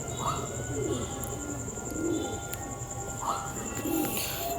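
Madras pigeons coo softly in a few rounded, repeated calls over a steady background hum, moderately close, with no talking.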